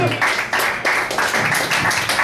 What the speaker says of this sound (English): Round of applause for Brad Foster